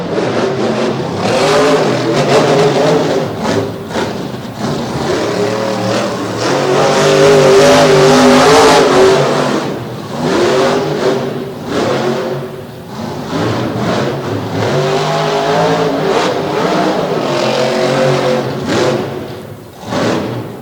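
A monster truck with a broken left rear axle races hard over jumps at a monster truck marathon event, its engine roaring loudly and continuously with revving surges and tire noise throughout.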